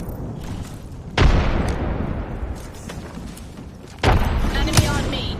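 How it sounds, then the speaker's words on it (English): Two heavy blasts land in a video game match, each a loud boom whose rumble drags on for a few seconds, while players talk over the noise. "Releasing an arc star. Grenade flung."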